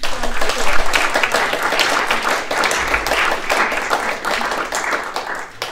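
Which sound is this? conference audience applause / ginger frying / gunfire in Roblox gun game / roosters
conference audience applause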